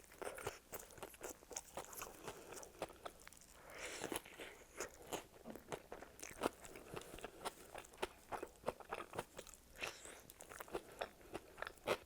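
Close, steady crunching and biting while eating a fat Chipotle burrito, with repeated sharp bites and chewing in an irregular rhythm, no talking.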